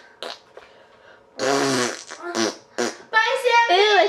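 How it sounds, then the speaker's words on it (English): A child's fart comes amid loud, playful singing and chatter, with short bursts of voice and a brief low rumble mixed into the noisy, uneven vocal sounds. "Are you trying to sing loud to hide your fart?"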